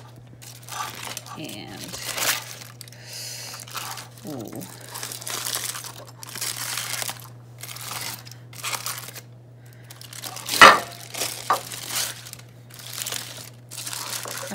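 Foil or wrap crinkling and tearing as hot smoked turkey legs are unwrapped, several loud close crumpling bursts separated by pauses, with people talking throughout.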